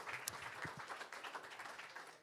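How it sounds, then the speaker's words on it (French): Faint applause from an audience at a pride gathering, a soft continuous patter of many hands heard from a distance. "J'aimerais qu'on l'applaudisse très fort"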